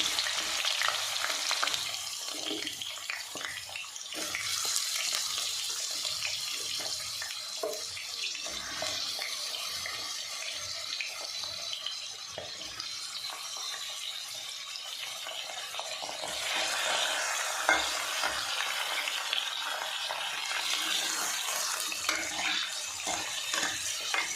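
Potatoes and turnips shallow-fry in a pan with a loud, continuous hissing sizzle. Frequent scraping stirs run through it and grow busier in places, with no speech.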